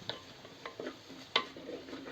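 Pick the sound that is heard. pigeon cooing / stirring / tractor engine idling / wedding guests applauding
stirring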